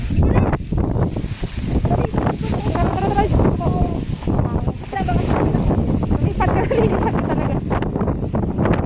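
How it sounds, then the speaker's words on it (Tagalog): Strong wind from a storm with rain in Riyadh roars and buffets the microphone continuously, with voices faintly audible beneath the gusts. "Grabe lakas ng hangin."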